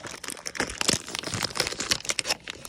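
Plastic bag crinkling and rustling up close in quick, irregular bursts, with no voices, during a transmission fluid drain and fill on a 2000 Cadillac Seville SLS.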